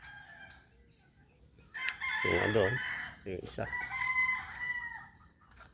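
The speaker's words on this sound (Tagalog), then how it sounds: "yung mga tandang ko" Young roosters (stags) crow nearby: two loud, drawn-out crows rise over a quiet farmyard background, with someone speaking briefly between them.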